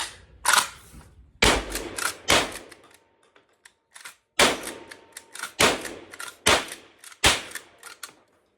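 Loud shotgun blasts from a Cimarron 1887 12 gauge lever-action firing 1 1/8 oz 12 gauge shells, six sharp reports spaced about a second apart with short pauses and mechanical action noise between, no talking.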